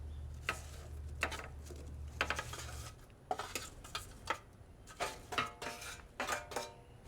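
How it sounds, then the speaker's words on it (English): Brussels sprouts go into a skillet with the heat turned off, making a run of faint, irregular clacks and clattering knocks against the pan, some in quick clusters. "I'm gonna turn off the heat and I'm gonna add my Brussels sprouts right into the skillet."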